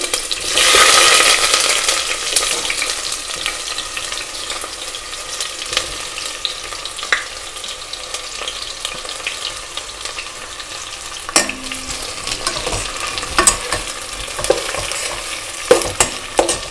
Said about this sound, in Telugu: సో బాగా ఫ్రై చేసుకోవాలండి ఇది ఆనియన్.